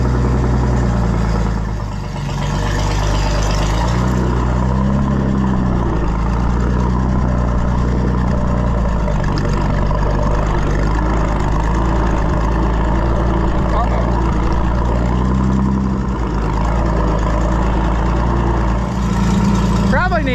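An old Co-op car engine runs in second gear, a loud continuous low rumble with slight surges in revs, close up and steady for the whole stretch, no talking heard.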